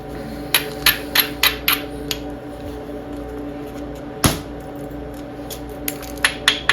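Mahogany obsidian struck repeatedly while knapping and spalling, a series of sharp, close clicking taps in an irregular rhythm, about a dozen hits including one heavier blow midway, over a low steady background hum.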